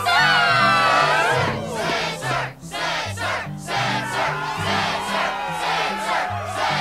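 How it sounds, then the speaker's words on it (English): A video game crowd in Kingdom Hearts 2 cheers and shouts loudly, a dense roar of many voices with rising whoops that dips briefly partway through, under backing music. "Yes, the crowd is fired up,"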